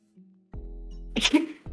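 A single person's sneeze bursts out close and loud, a sharp breathy explosion standing alone against a quiet indoor background.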